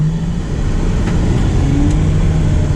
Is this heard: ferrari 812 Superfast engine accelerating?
yes